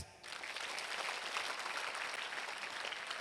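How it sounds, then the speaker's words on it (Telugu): A school audience at a motivational talk breaks into loud, sustained applause, steady dense clapping that starts abruptly and carries on evenly throughout. "గట్టి క్లాప్స్."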